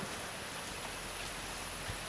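Steady rain falling outdoors around a house in Kerala, a faint, even hiss of drops without other sounds.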